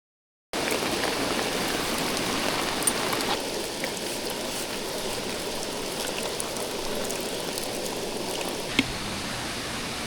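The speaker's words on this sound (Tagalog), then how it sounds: "First time namin tayo na sobrang lakas ng ulan." Heavy rain pours down at a campsite, a dense steady hiss of drops drumming on surfaces close by, starting abruptly after a brief silence and continuing without pause, with a few louder drips and no voices.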